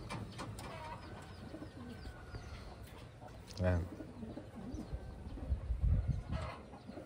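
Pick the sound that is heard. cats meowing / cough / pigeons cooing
pigeons cooing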